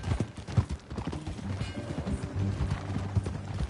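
Horse hooves in Red Dead Redemption 2, a mare ridden at pace: rapid, rhythmic clip-clop of hoofbeats, moderately close and fairly soft, with a brief whinny-like tone and no talk over it.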